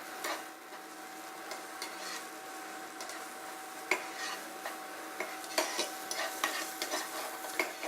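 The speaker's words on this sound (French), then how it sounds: "On met de la poêle, on va laisser rissoler un petit peu." Chopped onion sautés in a pan for smoked lamb with walnuts, a soft continuous sizzle broken by light scraping and stirring taps at irregular intervals, close and fairly quiet.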